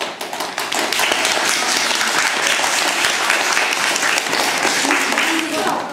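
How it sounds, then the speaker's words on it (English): A room full of people applauding, dense steady clapping that swells quickly and holds for several seconds before tapering. "Let's applause."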